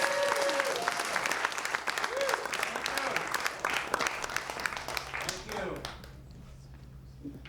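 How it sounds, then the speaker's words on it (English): A theatre audience applauds to welcome the first storyteller at a live storytelling slam, dense clapping filling the room for about five seconds before thinning out and fading to near silence. "Let's give a welcoming round of applause for our very first storyteller up to the stage."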